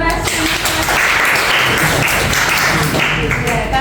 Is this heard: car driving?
no